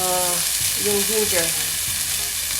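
Bitter gourd sautés in a hot pan with ginger going in, giving a dense, steady sizzle and crackle close by, while a voice speaks briefly over it.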